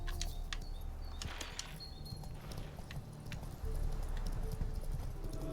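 Horse hooves clip-clopping at a walking pace in The Witcher 3, a steady rhythm of close, crisp hoof strikes with faint game ambience beneath.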